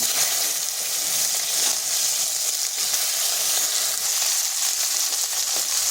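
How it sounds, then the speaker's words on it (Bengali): Peeled, washed taro pieces sizzle steadily in hot oil, a dense, even frying hiss that holds without letup. "ওই তেলের মধ্যে দিয়ে দিচ্ছি গাঁঠি কচুগুলো"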